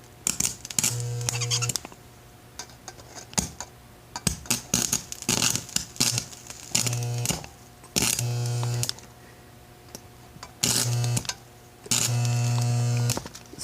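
A homemade arc welder built from a microwave oven transformer gives out a loud buzzing hum in repeated bursts of about a second, separated by crackly pauses.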